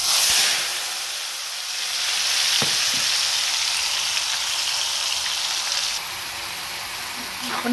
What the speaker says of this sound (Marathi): आपण ही प्युरी बनवलेली ही पण कढईत टाकून घेऊयात।